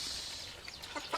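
A rooster clucks in a few short, quiet bursts near the end, over faint background hiss on a village farmstead.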